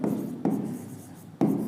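A teacher writes on a classroom board in short scratchy strokes, with sharp taps where the marker or chalk meets the surface at about 0.45 and 1.4 seconds.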